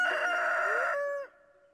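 A rooster crows in the farming game Stardew Valley, one long, loud, harmonic cock-a-doodle-doo lasting over a second before tailing off sharply into a quiet held tone.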